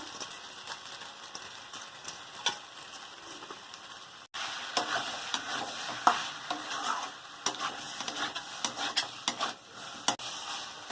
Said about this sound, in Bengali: এবার এঁচোড়টা দিয়ে ভালো করে কষিয়ে নেব।